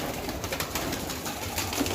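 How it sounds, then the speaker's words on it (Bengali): Many pigeons in a pigeon room on a farm, a steady mass of soft cooing and bird calls at moderate level throughout, no talking. "ভালো লাগতেছে অনেকগুলো কবুতর এখানে।"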